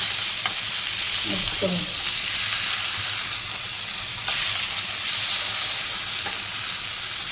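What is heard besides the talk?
whole pomfret fish frying in a pan, semolina coated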